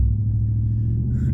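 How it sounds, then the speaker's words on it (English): Ram 1500 truck with a 5.7L V8 and a 304 stainless steel dual cat-back exhaust cruising under mild throttle, giving a steady, deep, close exhaust rumble with no break. "Definitely have a full, deep exhaust presence."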